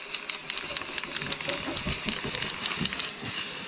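An aerosol coating sprays onto the rusted floor of an Econoline van, a steady close hiss broken by faint crackles and ticks, with no talk.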